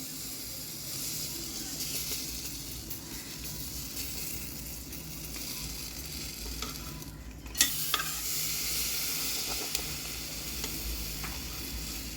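Amul butter sizzling under bread on a hot pan, a steady low hiss and crackle running throughout with one sharp click near the middle, close and quiet.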